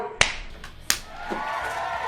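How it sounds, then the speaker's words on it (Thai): Two sharp, crisp finger snaps about two-thirds of a second apart ring out alone against quiet room tone, during a FIFA Online 4 player-pack opening session. "ดีดนิ้วหนึ่งที"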